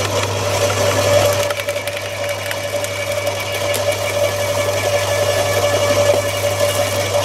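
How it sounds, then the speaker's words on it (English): Small electric garden shredder running steadily, a loud continuous motor hum with a steady mechanical whine and slight vibration, no voices. "Another thing that's been gathering dust in the shed is this little fella, number 8 electric shredder."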